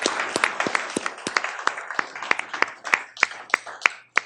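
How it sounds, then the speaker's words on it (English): Applause at an Eden Prairie city council meeting honoring the school district's anniversary: a small group clapping close, with distinct individual claps in a quick irregular rhythm that thins toward the end. "Everyone needs to clap at that."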